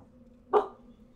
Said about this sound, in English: my dog's freaking out because someone's dropping something off